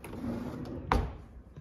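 A cutlery drawer in a minimalist kitchen set slides with a brief rolling rumble and then bumps shut with one sharp thud, close by, over a faint background hum.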